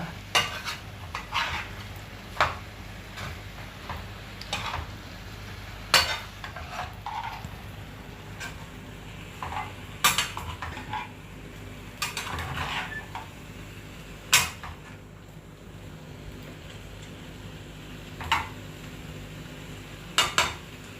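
Spatula and utensils scrape and clank against a pan while Thai basil chicken is stirred and cooked, with repeated sharp metallic taps over a steady low sizzle of frying.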